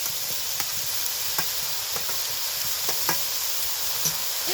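Boiled vegetables dropped one by one into hot oil seasoned with a tempering of spices and sautéed for a semolina tiffin dish, a steady broad sizzle with soft stirring knocks at irregular intervals and no talk.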